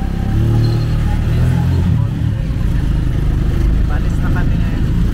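A motorized tricycle pulls away in Barangay San Marcos, its engine giving a close, steady rumbling drone with slight revving, while voices murmur faintly underneath.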